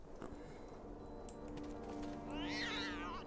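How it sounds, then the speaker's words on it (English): A cat in a Neverwinter Nights 2 game gives a drawn-out, wavering angry meow near the end, over a steady background hum and faint clicks. "Why you make anger sounds?"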